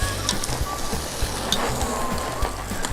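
A porterhouse steak sizzles steadily on a hot grill right after being flipped, a continuous close frying hiss with faint pops and a low background hum, no talking.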